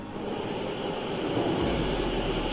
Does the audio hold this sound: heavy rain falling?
no